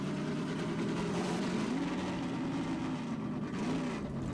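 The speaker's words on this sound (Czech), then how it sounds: "to zadrhává, nebo motor tak nějak chrochtá" A steady, rough vehicle engine drone from Half-Life 2 runs throughout with a slight stuttering, grunting unevenness, continuous and moderately loud with no speech.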